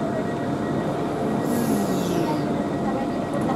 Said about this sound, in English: I'll move before the next fast train comes in.